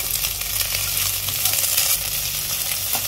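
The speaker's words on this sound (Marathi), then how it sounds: "बारीक गॅसवर आपण हे छान आपण मिक्स करून घ्यायचं" A spiced potato filling for fasting dosa sizzles steadily in a pan over low gas while being stirred, a loud, close, continuous frying hiss with faint scraping and no talking.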